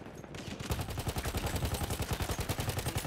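Rapid automatic gunfire from a powerful weapon in the video game Battlefield 1, a loud, continuous, rhythmic burst of shots that lasts nearly the whole stretch with no talk over it.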